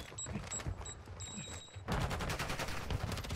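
Rapid automatic gunfire in Call of Duty MW2 ranked multiplayer, a sustained, loud burst of shots that kicks in about halfway through after quieter game sounds with faint beeping tones.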